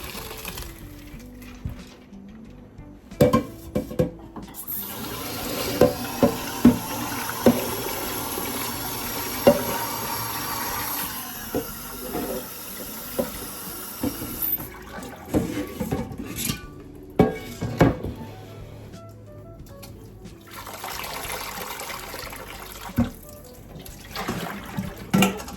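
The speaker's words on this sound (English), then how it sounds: "So right now I'm gonna go wash the rice." Ofada rice is washed by hand in a pot of water, with sloshing, splashing and pot clatter plus a running tap. The sounds are close and busy, with sharp knocks scattered throughout.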